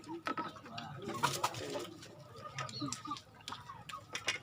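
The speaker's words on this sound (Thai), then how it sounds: "อันนี้ไก่ไก่" Chickens cluck and chatter in short, uneven bursts at moderate distance, with faint human voices mixed in the background throughout.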